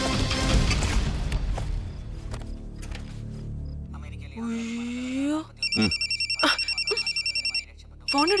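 A telephone rings in an indoor scene, loud repeated electronic trills in short regular bursts near the end, after a stretch of talk and a few sharp knocks.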